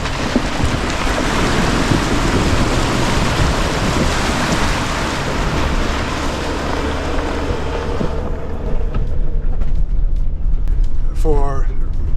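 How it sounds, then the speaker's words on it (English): A heavy van fords a creek, producing a loud, steady roar of churning water and rumble for about eight seconds that then drops away abruptly, leaving quieter sounds and a brief voice. "So here's another creek crossing here."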